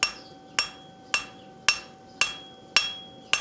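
A blacksmith's hammer strikes steel stock on an anvil during hemming, with sharp ringing blows falling about every half second, seven impacts in all, close and clear with no voices.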